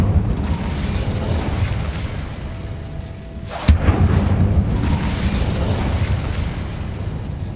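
Incendio fire spell cast in Hogwarts Legacy, a single sharp fiery burst that cuts through a steady low rumble of game ambience, followed by a brief crackling flare before the background settles again.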